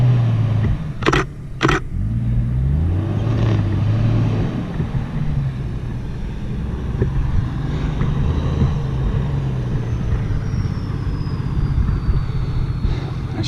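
A 4x4 car drives through the sand of the Moroccan desert, its engine a steady low rumble that holds for the whole stretch, with a couple of brief sharp knocks early on and no talk.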